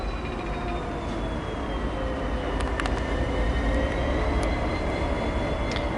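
A locomotive running around its train during shunting at Warrnambool gives a steady, continuous rail rumble with faint high metallic tones from the wheels. It holds evenly throughout, with no talk.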